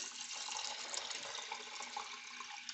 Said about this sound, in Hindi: अब मैं इसमें पानी डाल लूँगी।